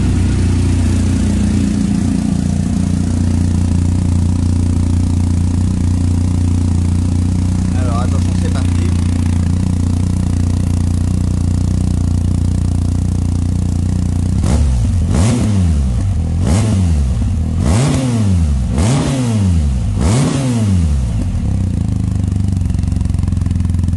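A BMW R1250 GS Adventure motorcycle with a REMUS exhaust idles with a steady low rumble, then gets revved in five quick blips that rise and fall in pitch, loud and close.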